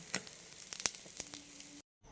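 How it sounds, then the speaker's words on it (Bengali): Egg-dipped bread seasoned with pepper and salt fries in a pan, giving a soft, steady sizzle with a few sharper crackles before cutting to near silence at the end. "শুধু একটু গোলমরিচ আর লবণ দিয়ে করছি এই যে ভাজা হচ্ছে"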